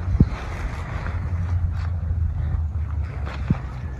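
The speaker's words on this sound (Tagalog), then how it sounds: "Malakas yung hangin sa taas." Steady wind rumble buffets the microphone outdoors while flying a kite, a low continuous roar with a couple of brief thumps, no voices.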